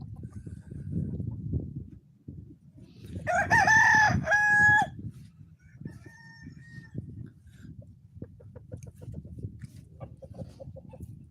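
A rooster crows loudly and close by in a short burst, with hens clucking steadily before and after it on a farm, and a faint low murmur running underneath the birds.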